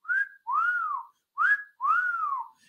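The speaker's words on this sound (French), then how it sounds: "Il y a des sifflets dans tous les sens." Four sharp whistles from a wrestling arena crowd ring out in two pairs, each a short rising note followed by a longer swooping one, loud and clear with no talk.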